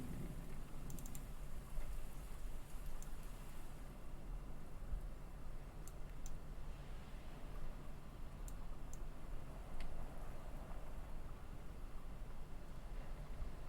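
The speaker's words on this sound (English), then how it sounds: "The rain is too heavy to see outside." Heavy rain sound effect for an animated episode, filtered to seem heard through a window, forms a steady, even hiss with faint scattered taps throughout.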